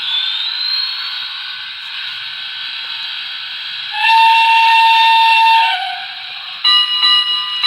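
A BLI Paragon 2 H-10s PRR model steam locomotive sounds its whistle, sustained multi-tone blasts that shift pitch, close and loud, running for several seconds with short breaks.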